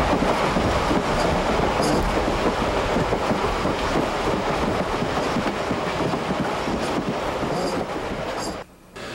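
Steam locomotive and cars running on rails at a heritage railway, with a continuous loud rumble, rattling wheels and faint squeals throughout, easing slightly near the end.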